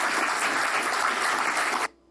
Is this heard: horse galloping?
no